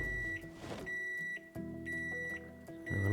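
Microwave oven in the zombie survival game Project Zomboid, giving a run of short, evenly spaced electronic beeps, fairly quiet and alone, with a soft thump partway through and no talking.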